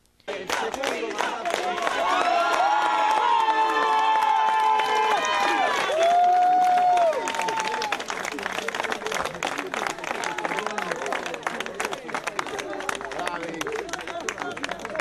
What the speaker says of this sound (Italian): Fra cori e applausi il sindaco è stato accolto nel seggio elettorale